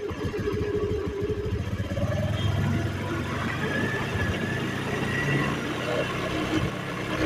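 A Honda Aviator scooter engine runs and revs up close during a mileage and rpm adjustment, a steady low engine drone rising slightly over the clip, with someone talking over it.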